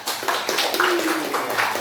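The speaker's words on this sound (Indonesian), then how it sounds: "tepuk tangan untuk kawan kita" Pupils in an Islamic studies classroom applaud a classmate with steady, dense group clapping, a continuous patter of many hands lasting a couple of seconds, with faint voices underneath.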